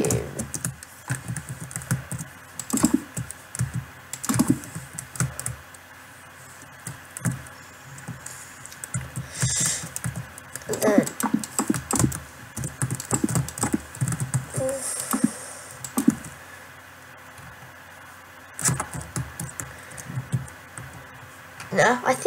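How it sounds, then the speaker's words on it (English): Rapid clicking of blocks being placed in a building game while constructing a mansion, irregular bursts of light taps running throughout under near-continuous talk. "if you can hear all that clicking, it's just me placing all the blocks."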